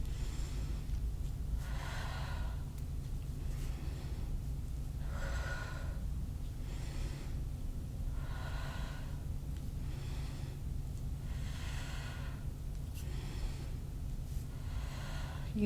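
Slow, deep breaths in and out during a yoga strength class, a steady cycle of about six audible breaths at regular intervals, close and fairly soft over a constant low background hum, with no talking.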